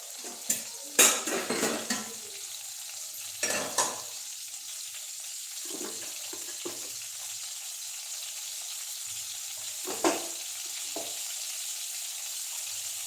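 Asafoetida sizzles as it hits hot oil in a pan, a soft steady fry broken by sharp clinks and scrapes of a spoon stirring against the metal pot.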